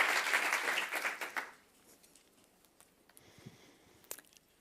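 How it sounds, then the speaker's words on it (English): Audience applause at a college design-thinking talk, a dense burst of clapping for about a second and a half that quickly dies away, leaving a quiet room with scattered faint noises. "Give an applause for Anja."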